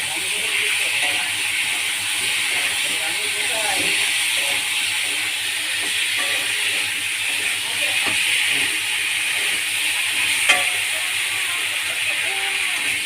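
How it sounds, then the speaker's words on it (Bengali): Cumin paste and vegetables sautéing in hot oil in a pan while fish curry with green banana and potato is cooked, giving a steady broad sizzle with faint scraping and a sharp clink near the end; a voice speaks at times underneath. "এবার ভালো করে একটু কষে নেব।"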